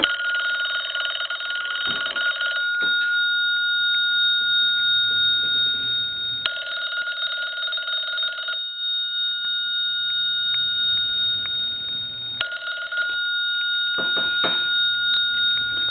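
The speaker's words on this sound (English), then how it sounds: "So now we know there is no question that the bell will ring." A Western Electric rotary wall telephone's mechanical bell rings in loud bursts of about two seconds, separated by pauses of silence and faint room noise.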